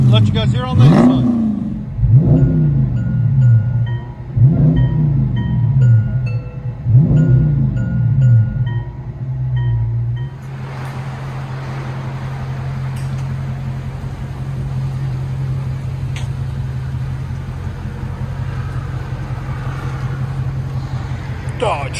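Dodge Charger Scat Pack with a Hemi V8, heard from inside the cabin: several throaty revs swell and fall in quick succession, then the engine settles into a steady, loud drone for the rest of the clip.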